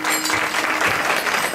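Audience clapping at a kirtan gathering, a dense burst of many hands applauding together at moderate loudness for a moment, without speech.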